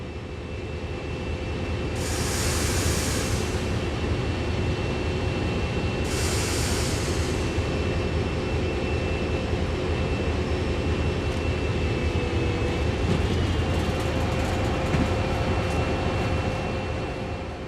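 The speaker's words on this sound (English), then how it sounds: "As you drive onto the turntable, take it very slowly so you don't overshoot." A locomotive in a train simulator game creeps slowly onto a turntable, a steady low engine drone and rumble with a constant whine running throughout, with two short hissing bursts early on.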